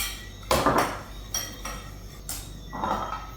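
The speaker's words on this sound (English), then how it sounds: "Mix everything together here." Dry muffin ingredients being mixed in a bowl: a utensil makes several separate close scraping clinks against the bowl, at an uneven pace, with no talk.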